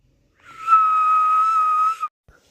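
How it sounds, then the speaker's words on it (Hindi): A man whistles at a woman in a cartoon, one clear, steady high whistle held for over a second that ends with a short upward flick, loud and alone against silence. "रास्ते में उसे देखकर महेंद्र उसे सीटी मारता है"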